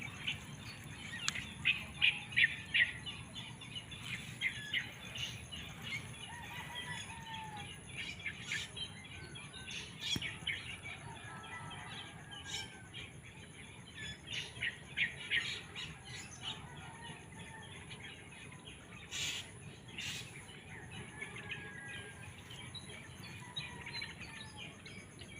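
Many wild birds, including punay, tikling, kalansiang and tingkarol, call outdoors in faint, scattered squawks and chirps over a steady insect hum, some brief calls rising a little louder now and then.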